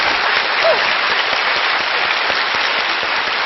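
Sustained applause from a studio audience at a televised lecture show, honoring mothers and the speaker's mother, dense and steady throughout with individual claps blending into a continuous wash.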